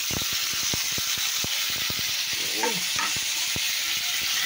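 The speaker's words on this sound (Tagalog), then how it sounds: "Igisa lang natin ng ganyan" Food sautéing in a hot pan in a Filipino home kitchen with minced garlic and sardines, a loud continuous sizzle broken by repeated sharp clicks and scrapes of a utensil stirring against the pan.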